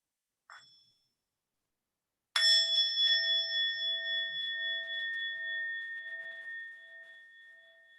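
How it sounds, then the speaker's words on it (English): A meditation bell is struck once after a brief small tap, its clear tone ringing out and decaying slowly over several seconds in a quiet room, with no talk over it. "I'll just invite the bell just to help us arrive here in the present moment here together."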